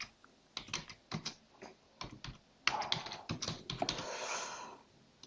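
Rapid computer keyboard typing while entering a layout name in QGIS, with bursts of close, crisp key clicks and short pauses, ending in a denser run of keystrokes.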